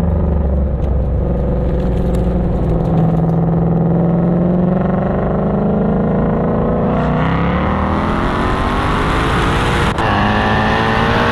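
Supercharged Ford Mustang GT350 V8 revving hard under acceleration, a loud, continuous engine roar rising steadily in pitch, close and alone with no talk.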